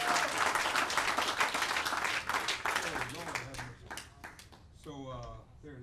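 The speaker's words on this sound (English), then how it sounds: "Give them another round of applause." Live comedy-club audience bursts into dense applause that holds for about four seconds, then thins into scattered claps while a voice begins talking over the fading clapping.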